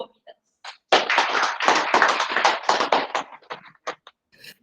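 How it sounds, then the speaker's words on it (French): Applause from an audience at a university institute lecture welcomes Dr. Christophe Providence. It bursts out loud and dense after a few scattered taps, holds steady, then thins into a few last claps. "Sous vos applaudissements, le docteur Christophe Providence."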